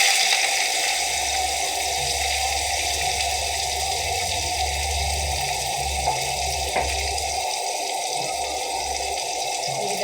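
Onions dropped into hot oil give a steady, loud, hissing sizzle that runs on without a break, with a low rumble underneath.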